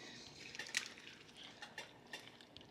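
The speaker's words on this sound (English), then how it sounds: "So just give it a nice stir" Spoon clinks and scrapes against a pot as a chickpea masala curry with vegetables is stirred, quiet and close, with brief metallic taps over a faint simmer.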